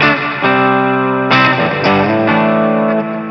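Sustained electric guitar chords from a Tagima Jet Blues Cosmos guitar on a clean signal ring out alone, each strummed chord held and overlapping with the next, loud and close with a slight effect-laden shimmer.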